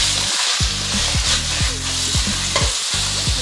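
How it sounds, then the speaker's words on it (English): Beef flash frying in smoking hot oil for Cantonese-style beef ginger kuey teow, with loud, constant, close sizzling and repeated rhythmic scrapes of a utensil stirring in the pan, without talk. "the beef goes in when the oil is smoking hot"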